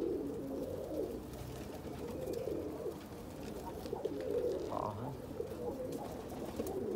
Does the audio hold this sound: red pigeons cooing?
yes